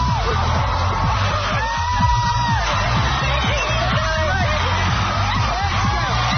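A studio audience at Oprah's last show screams, whoops and cheers continuously, a dense roaring crowd with individual yells rising above the babble throughout.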